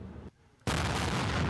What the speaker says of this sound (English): Thai artillery fires into Cambodia, while civilians flee the sound of gunfire.